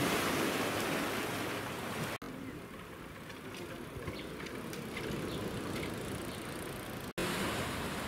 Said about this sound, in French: La plage de la Côte des Basques est ici à marée haute.